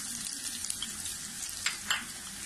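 Onions and garlic fry in a pan for vegetable noodles, a soft steady sizzle with a couple of brief louder hisses, close by and without talk.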